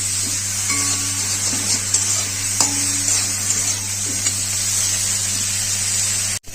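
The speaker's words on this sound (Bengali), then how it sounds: "বড়িগুলো ভেজে নেব বেগুনগুলো ভেজে নেব" Lentil dumplings and eggplant pieces fry in a pan for shukto, a bright continuous hiss of hot oil with a few light stirring knocks, steady and close with a low hum beneath, no voices.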